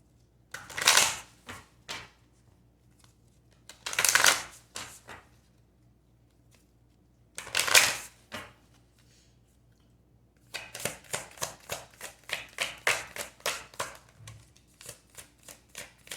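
Tarot cards shuffled by hand for a reading: three separate riffling bursts with pauses between them, then a longer run of quick, crisp card flicks, close and fairly soft with no talking.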